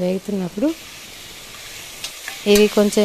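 Onion, capsicum and bay leaf fry in ghee inside a cooker with a faint, steady sizzle, broken by short bursts of a tonal voice or music near the start and end.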